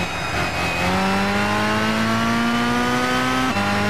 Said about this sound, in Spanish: El sonido de los coches.